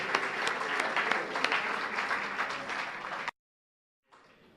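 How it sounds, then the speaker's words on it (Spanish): A church congregation bursts into sustained applause with dense, loud clapping that stops abruptly, followed by a brief silence and then faint room sound. "Para ti, Señor, este aplauso."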